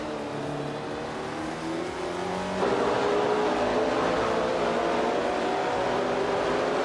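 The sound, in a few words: 1966 Matra MS5 race cars driving in a racing video game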